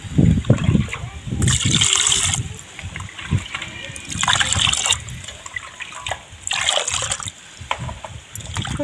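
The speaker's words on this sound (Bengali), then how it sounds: "জল দিয়ে খুব ভালোভাবে ধুয়ে নেব।" Water poured and swished over pieces of pangas fish being washed by hand, arriving in three splashy bursts over a steady low rumble, close and moderately loud.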